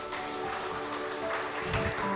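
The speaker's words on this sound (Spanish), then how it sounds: "Dale un aplauso a Cristo Jesús." A church congregation applauds, a steady wash of clapping with a few louder bursts, sustained through the short moment.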